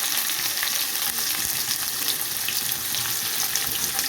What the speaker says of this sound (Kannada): ಈರುಳ್ಳಿ ಹಸಿಮೆಣಸಿನಕಾಯಿ ಜೊತೆನೇ ಈರುಳ್ಳಿನೂ ಹಾಕಿದ್ದೀವಿ ಇದು ಸ್ವಲ್ಪ ಕೆಂಪು ಫ್ರೈ ಆಗಬೇಕು